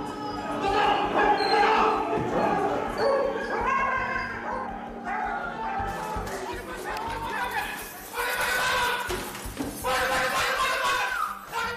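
Several dogs bark in excited bursts over a busy background of chatter and movement in a US prison, with the barking getting louder toward the end.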